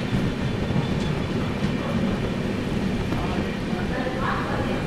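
The Mandovi Express rumbles steadily along the tracks after leaving Thane station, a dense, continuous rolling roar heard from inside the moving train with faint rail clatter.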